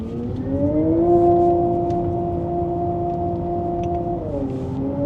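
A Porsche electric car with a simulated gearbox, floored in first gear, gives a steady synthetic engine drone with layered tones that rise, hold level at the limiter, then dip, loud and unbroken.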